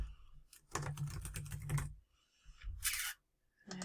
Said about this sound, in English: Enter your password and your store name.